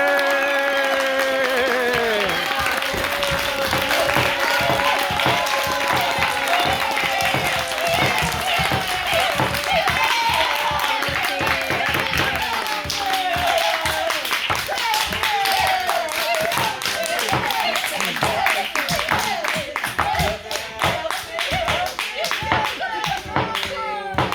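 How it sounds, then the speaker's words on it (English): An audience at a mock circus-style courtroom show claps in a steady, rhythmic beat, with music and voices continuing over the clapping throughout. "now it is your turn to clap"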